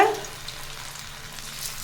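Steady hiss and crackle of masala-coated fish frying in a little oil on a hot dosa griddle, a brief louder burst at the start settling into a continuous soft sizzle.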